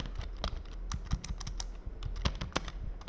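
Rapid typing on a computer keyboard while entering code in a Colab notebook: dense, close, clicky keystrokes rattle steadily throughout, with a few louder key hits and no voice.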